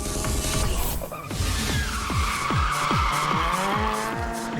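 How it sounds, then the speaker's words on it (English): Street drifting cars in Osaka: engines rev up and down in repeated sweeping bursts while tires squeal and skid in long screeches, loud and close, with no talk. "The Osaka street drifting, though highly illegal in Japan and New Zealand, is really exciting to watch"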